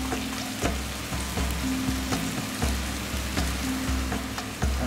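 Peacock casserole with red wine, balsamic vinegar and bay leaves simmering in a pan, giving a steady close bubbling and gentle sizzle with soft rhythmic pops and spoon taps throughout.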